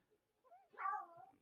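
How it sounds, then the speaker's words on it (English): A house cat gives a single soft, drawn-out meow, faint and close in an otherwise quiet room. "my cat says hi"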